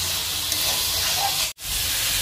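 Chicken sizzling hard in a pan over a high gas flame, a loud, dense hiss that runs unbroken except for one brief dropout near the middle.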